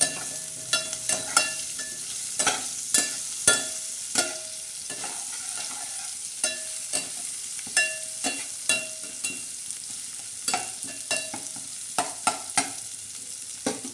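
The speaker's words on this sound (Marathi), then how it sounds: "लसूण टाकणार आहोत त्याच्यानंतर हे कढीपत्ता टाकणार आहोत मस्त असा हलवून घेणार आहोत" Garlic and curry leaves fry in hot oil for a dal tadka, a steady close sizzle broken by sharp spattering pops and the scrape of a spoon stirring the pan.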